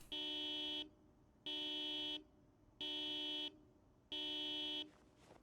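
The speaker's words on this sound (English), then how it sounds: "I'm going to simply pretend that the alarm isn't there." An electronic alarm in the Project Zomboid video game sounds four times in a steady on-off pattern, each tone a bright harmonic buzz lasting under a second, moderately loud with no talking.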